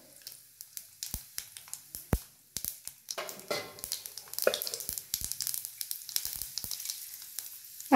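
Mustard seeds and chana dal frying in hot oil, with crackling pops and bursts of sizzle. The pops come sharp and scattered at first, then turn into a steady, denser crackle without any talk.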